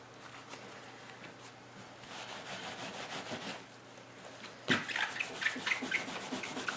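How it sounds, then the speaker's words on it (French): Paper card being rubbed by hand along a small curve to shrink it while crafting a greeting-card pouch, a soft continuous scratchy friction that turns brisker and louder near the end, with no talk. "je vais venir frotter la petite courbe comme ça ici pour la faire rétrécir"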